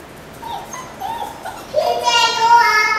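A dog whimpers in thin high whines, faint at first and then rising into louder, drawn-out cries near the end, mixed with a person speaking nearby.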